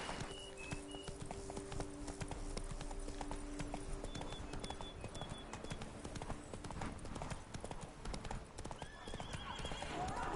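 Roach, a horse in The Witcher 3, clip-clops along at a steady gallop with occasional neighs, set against a busy game soundscape with a low music drone and scattered chimes.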